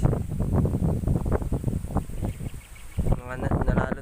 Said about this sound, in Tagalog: Sobra lakas ng hangin